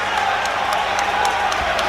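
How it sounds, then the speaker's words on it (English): A football crowd at a York City versus Southend United National League match, a dense, continuous roar of voices broken by a few sharp, regularly spaced claps or shouts over the brief moment. "The crowd a little bit more animated"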